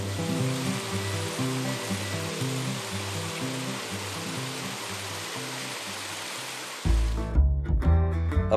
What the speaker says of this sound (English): We really like this cabin, as we had our own personal waterfall right behind it.